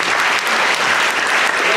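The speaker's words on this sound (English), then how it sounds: "So please, I would ask you for a welcoming applause for Jean-Claude Milner, Alenka Zupančič," An audience applauds to welcome panelists at a literature festival, a dense, loud, sustained wash of clapping from a full room without pause.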